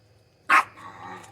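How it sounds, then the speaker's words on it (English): A single sharp, loud dog bark close by indoors, followed by a softer trailing growl-like rumble and a faint distant yip, over a low background hum. "Dogs, you gotta love them."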